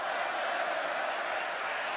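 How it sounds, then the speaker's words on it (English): A large arena crowd at a WrestleMania 33 wrestling event roars steadily for The Undertaker, a dense, continuous wall of cheering heard from within the stands. "Fans trying to cheer The Undertaker, pull him back in this thing."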